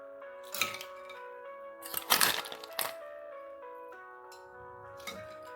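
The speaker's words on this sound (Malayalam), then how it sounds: "നമുക്ക് കുറച്ച് ഐസ് ക്യൂബ്സ് കൂടെ ഇടാം." Ice cubes drop into a glass of juice up close, giving a few sharp clinks and cracking bursts with a ringing glass tone between them, quiet apart from the impacts.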